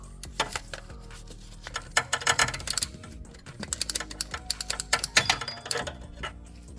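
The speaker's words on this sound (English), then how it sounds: "Let's tighten the bolt down." A ratchet tightens a 12mm bolt on a Honda Accord engine belt tensioner, giving rapid, close clicking bursts in several uneven runs with short pauses between, with no talking.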